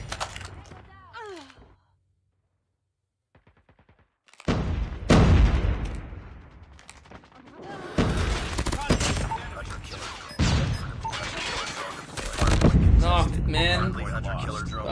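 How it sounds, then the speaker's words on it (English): Game combat in Call of Duty Mobile: a predator missile strike lands amid bursts of gunfire and heavy booming impacts, loud and dense after a brief quiet gap, with game voices and chatter mixed in. "Hostile predator missile inbound"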